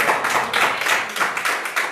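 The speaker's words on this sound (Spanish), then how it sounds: "dá un aplauso al Señor por eso" Church congregation clapping together in praise during a sermon, a rhythmic run of loud hand claps with a steady beat, many hands close together.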